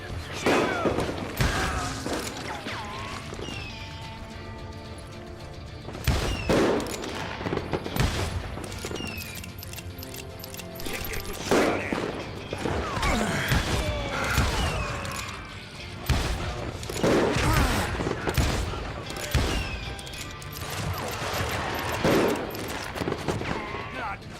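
Repeated bursts of rapid gunfire and booming shots from the Call of Juarez: Gunslinger Western shooter, loud and clustered in volleys with short pauses, under occasional speech.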